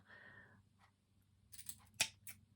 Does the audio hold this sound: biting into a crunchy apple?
no